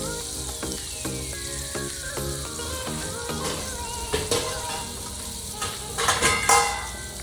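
Oil and a piece of butter sizzle steadily in an iron kadhai, a continuous close frying hiss with a few clinks of a utensil against the pan near the end; no one talks.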